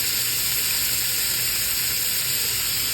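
A ribeye steak sears in a hot pan, giving off a steady, close, unbroken sizzle and hiss with no talking.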